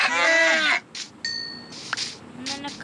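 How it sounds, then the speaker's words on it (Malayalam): A sheep in the Minecraft video game lets out one short, wavering bleat at the start. Brief game chimes and clinks follow over a quiet background. "എടാ ഷീപ്പിന്റെ ശബ്ദം ഞാൻ കേട്ടു"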